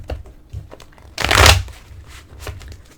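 Eros Kiss oracle cards being shuffled by hand, a short riffling burst of card noise in the middle amid quieter soft handling sounds.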